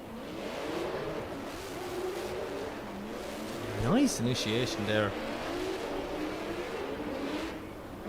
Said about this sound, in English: Coming through the V8 screaming of Nazar Harbali's spare car, his old 350Z